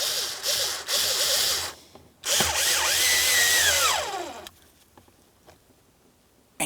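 A power drill runs up to tighten the mounting bolts on a 2007-2014 GMC Sierra 2500 HD turn signal lever, two close whirring bursts with a rising and falling motor pitch, then quiet clicks.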